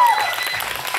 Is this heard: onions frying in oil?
no